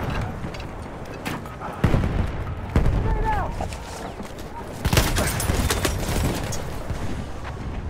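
A Battlefield 1 battle in the Argonne Forest rages with repeated gunshots and heavy booms from a grenade blast, loud and continuous, layered over distant combat noise and brief voice sounds.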